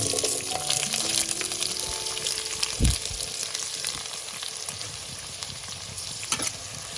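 Capsicum, beans and carrots fry in a wok with a steady, moderate sizzle and hiss, broken by a couple of brief clanks and stirring scrapes.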